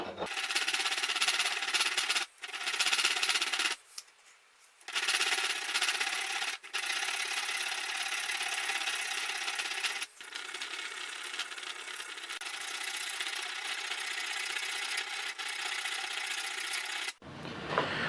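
A rotary tool grinds a slot into a 1911 pistol barrel, a harsh high-pitched whine running in long bursts with several short pauses, close and loud.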